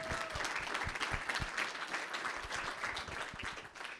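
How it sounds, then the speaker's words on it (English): An auditorium audience at a startup pitch competition gives a round of applause, steady dense clapping that holds at an even level throughout, with no talking over it. "So if you could please join me in giving them a big round of applause."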